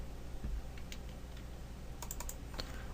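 Keys pressed on a computer keyboard during Cinema 4D work, a Shift+R shortcut: a few soft, sparse clicks spread over a quiet room background, with a small cluster of taps near the end.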